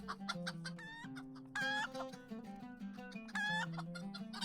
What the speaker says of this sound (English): And we have the musical clucking of our chickens as we run along the road.